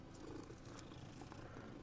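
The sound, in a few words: cat purring while petted in Hogwarts Legacy video game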